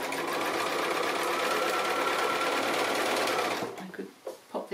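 A sewing machine chain-pieces small fabric triangle units for a pinwheel pin cushion, running in a fast, steady mechanical rattle up close before slowing and stopping into a few separate clicks and thumps.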